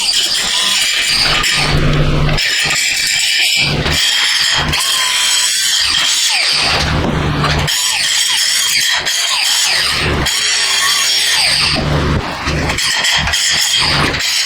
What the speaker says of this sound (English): Try to do a little touch up with the grinder.